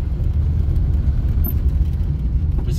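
A Lada without power steering drives a barely passable rough road, its engine a steady loud low rumble with constant rattling and bumping from the rough surface, with no voices.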